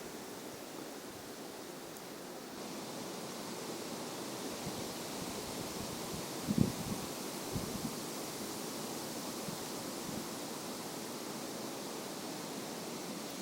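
Strong wind blows across open water while fishing, a constant broadband roar with gusty swells, plus a brief knock midway.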